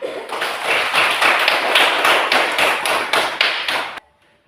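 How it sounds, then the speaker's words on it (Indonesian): A classroom group of students claps together for a presenting group, a dense steady patter of many hands that holds at an even level for about four seconds and then stops abruptly. "mari kita beri tepuk tangan."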